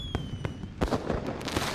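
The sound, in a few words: fireworks booming in the video game Love and Deepspace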